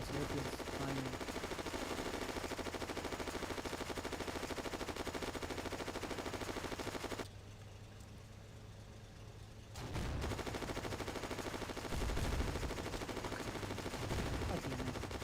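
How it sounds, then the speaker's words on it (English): Video game anti-aircraft guns fire from an airfield in a dense, continuous rapid rattle that drops away for a couple of seconds midway, then resumes at full intensity. "Our AA on this airfield is firing."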